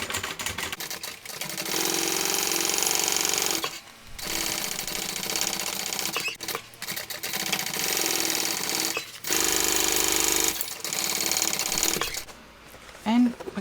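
A sewing machine runs in long bursts, stitching the exterior of a fabric shoulder bag with right sides together, its motor whirring steadily and pausing briefly between runs, close and fairly loud.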